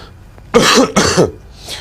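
Two harsh coughs in quick succession, close by, followed by a fainter breathy one.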